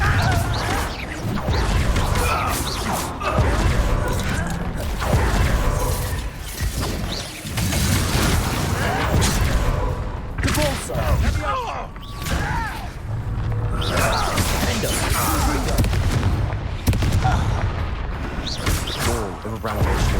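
Confringo blasting spell bursts from the Hogwarts Legacy video game, dense crashes and shattering impacts layered over whooshes and thuds in a loud, busy combat mix, with a voice talking throughout.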